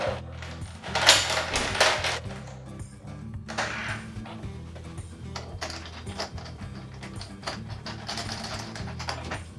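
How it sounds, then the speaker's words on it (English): Metal washers and lock nuts clink and rattle as they are threaded onto bolts while a DIY motorcycle top case is mounted, giving close, irregular small metallic taps and scrapes throughout. "So I'm going to go ahead and put the washer on and the lock nut."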